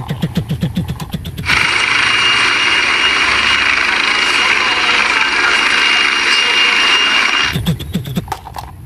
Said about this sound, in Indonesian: Di sini ada helikopter pemadam kebakaran dengan warna merah dan putih.